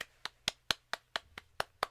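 One person claps in an even rhythm, about eight or nine crisp, close claps over a podcast recording, with no talk.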